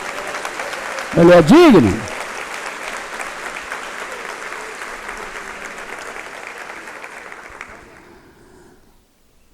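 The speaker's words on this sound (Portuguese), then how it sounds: "Aplauda a Deus com alegria." A church congregation applauds steadily, a dense wash of clapping that swells briefly under a loud sung or shouted voice, then fades out toward silence.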